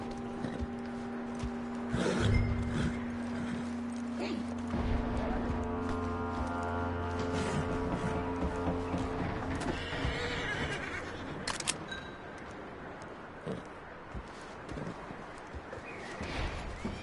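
Horse in the video game Red Dead Redemption 2 neighing in a brief whinny, with light clip-clop of hooves and game ambience around it, fairly quiet overall with no talk.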